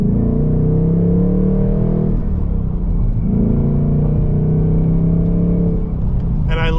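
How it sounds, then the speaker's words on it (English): A 2024 Ford Mustang GT Premium with a naturally aspirated V8 and a Getrag manual gearbox drones loudly and steadily, its pitch dipping and climbing through gear changes, with no talking over it. "that sound out of a naturally aspirated V8"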